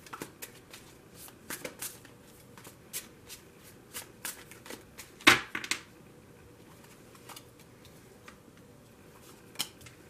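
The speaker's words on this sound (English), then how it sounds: "I'm only going to shuffle it for a moment." Tarot cards being shuffled in short, soft riffles and taps, scattered irregularly with one louder burst of shuffling in the middle, close and quiet.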